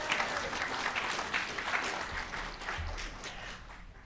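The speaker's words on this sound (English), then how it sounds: "Clap it up." A crowd at a mayor's State of the City address claps in a steady, fairly faint round of applause, scattered hand claps blending into a continuous patter.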